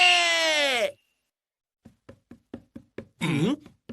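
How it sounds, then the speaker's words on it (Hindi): In a Hindi-dubbed ninja kids cartoon, a run of soft, evenly spaced footfalls draws closer between two brief bursts of voice, with near silence before the steps begin. "ये किसके पैरों की आवाज है?"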